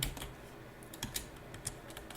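Quiet computer keyboard typing with a handful of light, irregular key clicks and taps, close and alone with no talk.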